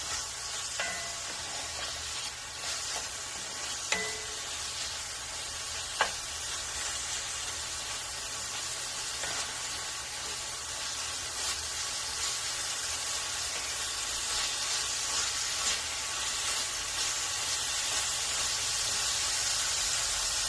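Garlic sautés in a pan for shrimp tetrazzini, giving a faint, steady sizzling hiss that slowly builds over the stretch, with a few light clicks of a utensil.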